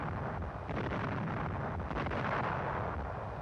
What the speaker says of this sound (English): And for artillery, we used the bamboo cannon.